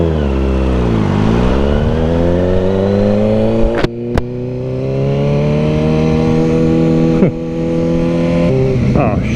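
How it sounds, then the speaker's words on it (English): A Mercedes SL65 AMG twin-turbo V12 engine revs loud and close, its pitch dipping and then climbing steadily through the gears, with brief shifts and a few sharp clicks. "Twin turbo V12 Mercedes."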